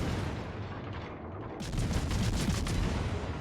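A British cruiser, the Edgar, fires its guns in World of Warships, a rapid fusillade of repeated booming shots that begins suddenly partway through, rattling on over a low rumbling sea-battle backdrop.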